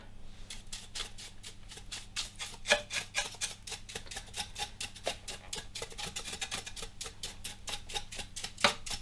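Brisk back-and-forth brushing over Dyson V10 cordless vacuum parts on paper, a rapid run of close, crisp bristle strokes with a low background hum.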